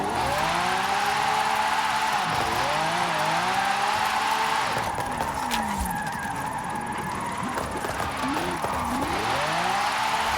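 A 1970 Chevy El Camino Super Sport 454 drifting in Forza Horizon 5, its engine held at a loud, continuous wail with revs repeatedly dipping and climbing through the slides, tire squeal mixed in throughout.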